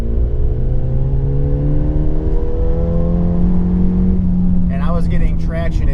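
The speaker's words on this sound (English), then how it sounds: "So I'm going to do a third gear pull here" A Stage 1 tuned Ford Fiesta ST pulls hard in third gear toward peak revs, its engine note climbing steadily and loudly from inside the cabin. A voice briefly comes in near the end.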